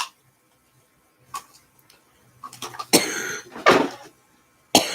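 A person coughs a few times in short, throaty bursts from sinus drip, with a little throat clearing between them, close up in a quiet room with faint ticking sounds.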